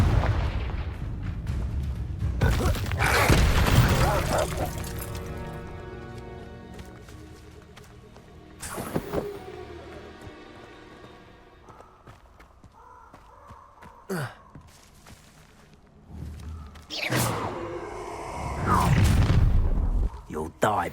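Fire spell blasts from Hogwarts Legacy game combat, loud bursty explosions at the start and end with a quieter stretch of magical tones and booms between, while a voice speaks over parts.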